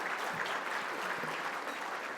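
Steady, dense applause from an audience at an awards gala, continuous and fairly loud throughout with no pauses.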